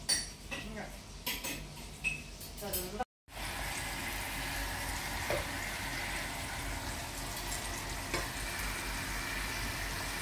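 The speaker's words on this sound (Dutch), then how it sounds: "En Chantal is nog steeds aan het koken" A home cooking session: food sizzles steadily in a pan, with clattering cutlery and dish clinks at the start, then a continuous close frying hiss.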